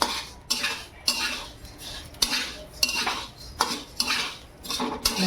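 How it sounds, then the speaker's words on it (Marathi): Coriander seeds dry-roasting in a pan for homemade Agari Koli masala, with a spatula scraping and stirring them in a steady rhythm of close, crisp strokes, roughly two per second, and no talking. "धणे पण आपल्याला व्यवस्थित भाजून घ्यायचे"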